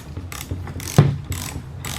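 A socket ratchet tightening the front strut nut on an Acura RSX, with a few close, quick clicking ratchet strokes in an uneven rhythm and a sharper metallic knock midway.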